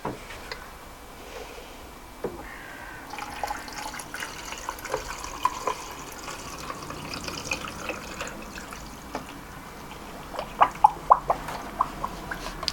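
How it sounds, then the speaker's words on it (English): Water runs into an inflatable hot tub, a low steady trickle and splash with scattered small clicks and a few sharper drips near the end, alone and close by. "now I'm going to fill this up with water and let's turn the circulation pump on."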